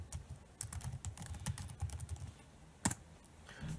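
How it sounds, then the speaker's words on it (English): Quick bursts of keystrokes on a computer keyboard entering a web address, close and clear with short pauses between runs, no speech. "I'm going to type in the URL for the LTSS Maryland."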